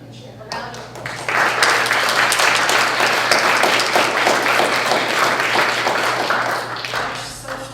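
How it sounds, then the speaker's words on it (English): Audience at a Kawartha arts candidates meeting bursts into sustained, dense applause after a brief lead-in, the clapping loud and even for several seconds before tapering toward the end. "A round of applause."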